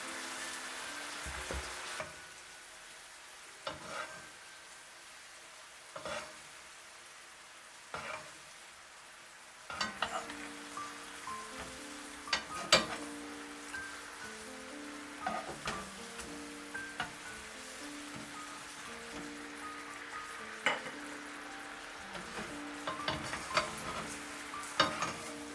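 Chicken pieces frying in a pan with teriyaki sauce, a steady close sizzle with intermittent stirring and scraping bursts, louder after the first few seconds, with no talking.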